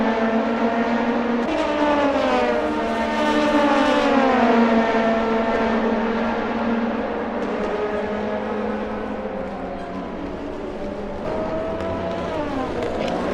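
Race cars lap The Glen with high, whining engines that rise and fall in pitch as they accelerate and shift. The sound is loud and steady, with several cars layered together.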